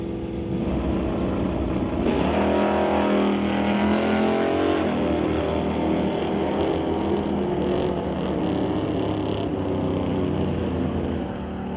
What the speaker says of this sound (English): facing off against Rob Hodgson with a 1967 Plymouth Belvedere with 440 cubic inches of Plymouth motor under the hood.